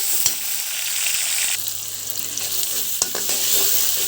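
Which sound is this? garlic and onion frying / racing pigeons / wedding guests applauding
garlic and onion frying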